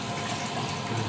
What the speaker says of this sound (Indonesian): Ini buat ngebuang airnya, ini dilangsungin.